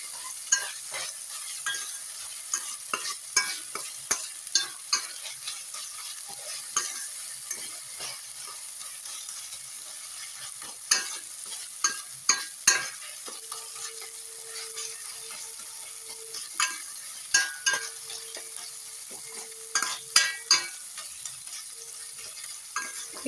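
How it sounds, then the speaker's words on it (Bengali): Tomatoes for chicken bharta sizzle softly in a pan while a spatula stirs them, scraping and clinking against the metal in irregular bursts over a continuous low fry. "টমেটোটা দিয়েও আমি এটাকে বেশ ভালো করে একটু কষিয়ে নেব"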